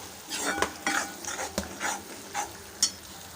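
A spoon stirs radish curry with jaggery in a pan, producing a series of irregular scraping clinks and knocks against the metal over a soft background sizzle.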